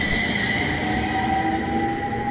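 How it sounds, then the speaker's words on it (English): A new city tram in Utsunomiya, Japan rolls past close by with a steady loud rumble, humming motors and faint wheel squeal, and no one talks. "This is a close-up look of the new tram that they've got in the city."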